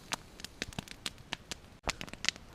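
A campfire burns in a forest at night, sharp crackles and pops snapping out at irregular intervals over a faint, quiet background, with no talking.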